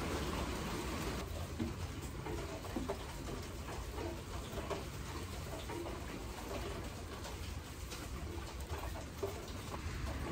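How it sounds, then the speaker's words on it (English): Steady rain patters continuously on a surface, a dense even hiss with scattered louder drops throughout, no voices. "Rain."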